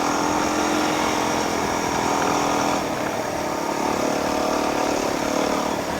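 A small dirt bike engine revving steadily through light throttle blips over moguls on a woods trail, loud and close, a continuous buzzing drone for the whole stretch with no talk.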